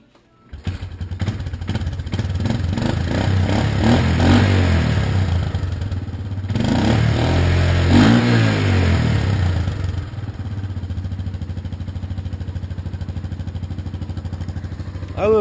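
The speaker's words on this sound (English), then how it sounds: "As you can tell, the engine is it revs really well." A custom-built 1986 Yamaha Moto 4 200 ATV engine runs close by with a throaty exhaust, climbing through two strong revs before settling back to a steady, clattering idle.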